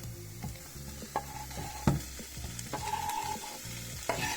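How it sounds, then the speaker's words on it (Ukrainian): Sausages and onion sizzle steadily in a hot pan, with occasional stirring clinks and scrapes; no voices. "І нехай це все разом обсмажується."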